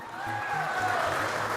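Applause sound effect from the video game Undertale, a brief, steady wash of clapping that lasts about a second and a half, layered over soft tonal game music and a pulsing low beat.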